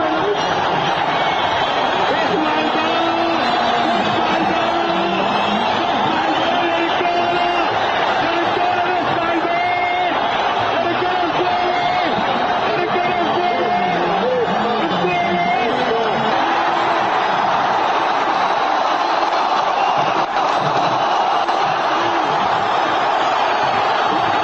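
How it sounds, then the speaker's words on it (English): A huge crowd in Cairo roars and cheers at Hosni Mubarak's resignation, a loud unbroken wall of shouting, whistling and chanting that carries on steadily, with whoops rising above the din. "Listen to that crowd."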